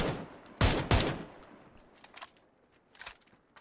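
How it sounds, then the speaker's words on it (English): Video game gunfire as one player shoots another: two loud, sharp shots close together, then a scatter of fainter, more distant shots with no talking. "No, he's shooting another real player over there."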